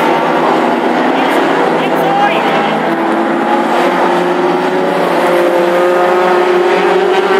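Race cars driving up the home straight on the first lap of a race, a steady, droning multi-engine roar with shifting pitches, under continuous commentary speech.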